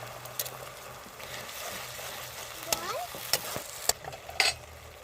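Tomato paste frying in a pan over ginger-garlic paste for a mutter paneer, a soft steady sizzle close by with a few sharp scraping or tapping spoon strikes near the end, no talking.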